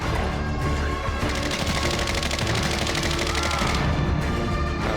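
Sustained automatic gunfire from an ODEN rifle in Call of Duty Warzone, a dense rapid burst lasting several seconds with distant shots before and after, loud and unbroken and with no speech over it.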